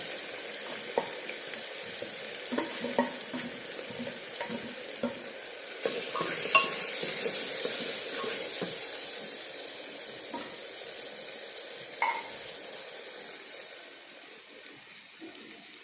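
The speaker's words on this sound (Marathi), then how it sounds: "चांगलं फ्राय झालं पाहिजे" Mixed lentils frying in a pan with salt and turmeric, a steady soft sizzle running throughout, broken by scattered light scrapes and taps of a stirring spoon, fairly quiet and close, with no voices.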